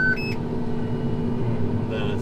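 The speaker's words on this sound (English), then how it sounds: "It's beeping at you, Rain." A device beeps with short tonal bleeps near the start and again near the end, over steady engine-like rumble and background noise in what seems a farm equipment setting.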